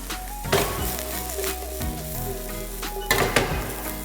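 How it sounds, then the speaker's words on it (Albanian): Mushrooms and celery sizzle steadily in a frying pan, with a few louder bursts and light clinks as the ingredients are stirred and tossed. "selinoja tu është gati e skuqur, dhe hedhim dhe kërpudhën"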